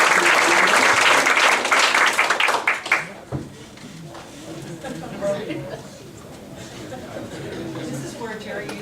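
A round of applause for the Teachers of the Year at a school board meeting, loud clapping for about three seconds that quickly fades, followed by murmuring and talk in the room.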